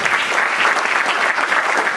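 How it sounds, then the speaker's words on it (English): A crowd at an event applauds in a loud, dense, steady burst of many hands clapping together, close and continuous with no voices over it. "A round of applause for you guys."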